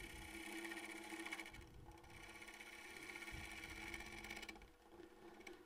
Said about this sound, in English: So you can hear, even with the bigger spindle, there's a little bit of vibration there.